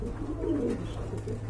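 A pair of red Koka pigeons coos in low, soft, rolling phrases, close and steady against a faint background hum.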